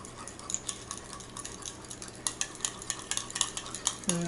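Eggs with a little oil are mixed in a bowl for a Japanese omurice omelette, with rapid light clicks and scrapes of stirring, near and moderately loud, with no voice.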